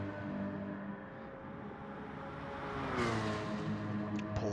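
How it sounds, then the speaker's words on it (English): A Porsche race car engine in Gran Turismo roars steadily at Dragon Trail Seaside, its pitch rising as it revs up and accelerates, with a sharp burst of noise partway through. "Porsche is also another nice sounding car."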